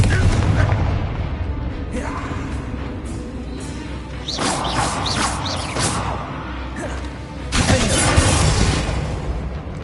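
A Confringo blasting spell explodes in the Hogwarts Legacy video game, a booming blast with crackling debris, followed by further impacts and bursts; a voice is heard amid the loud, roughly spaced explosions.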